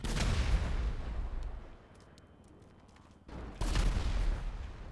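Gunfire in a video game, a sustained loud crackling volley, a quieter lull, then another loud burst of rapid shots.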